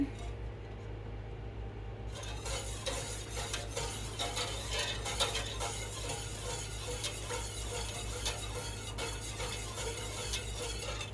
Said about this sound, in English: we are going to whisk this until it thickens